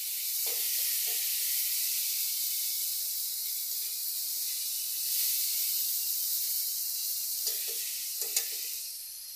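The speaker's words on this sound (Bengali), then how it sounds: "এই আমশির সঙ্গে একটু কষে দিই" Spices sizzling with dried mango pieces in a hot pan, a steady high hiss broken by a few soft stirring scrapes, close and continuous with no talk.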